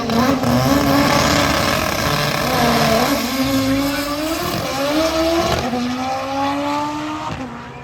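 Drag racing cars, including a 2020 Chevy GT500, roar loudly with rising revs and repeated gear-shift climbs, engines close and sustained throughout with no talk.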